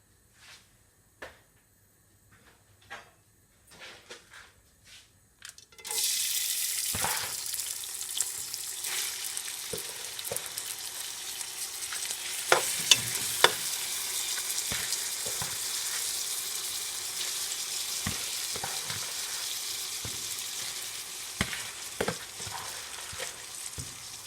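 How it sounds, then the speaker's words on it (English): Rice hits vegetable oil and a few drops of sesame oil in a pot, jumping from scattered faint clicks into a sudden loud, sustained sizzle with occasional stirring scrapes and pops. "I will be adding my rice so my rice could fry up"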